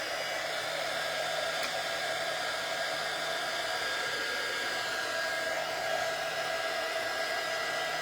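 A hair dryer blows on freshly painted cutouts, a steady whooshing hum held without a break throughout, close and even in level.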